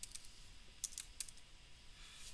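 Quiet keystrokes on a computer keyboard, a few sparse clicks in small bursts at close range over faint background hiss, with no voices.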